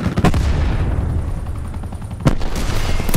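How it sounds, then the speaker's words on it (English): Heavy weapon fire in a video game as the Seraph fires its annihilator: loud booming blasts at the start, a rumbling stretch, then another sharp blast and more fire, with no talk over it. "Seraph firing annihilator"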